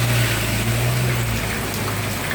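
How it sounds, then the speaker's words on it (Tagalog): Light, steady rain falls during the Philippine rainy season, a soft continuous hiss with water trickling as it slowly fills drums, heard close and without speech. "yung tinatawag nilang binabain na ulan, yung mahina lang pero matagalan"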